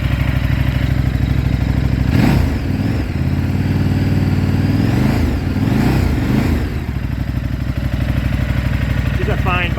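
A 2013 KTM motorcycle with a 1000cc-plus engine idles steadily and loudly close by, its dense low throb continuous throughout, with brief swells of clatter and revving and a voice speaking over it.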